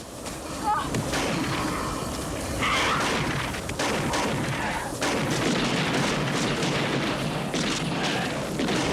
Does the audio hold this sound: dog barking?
no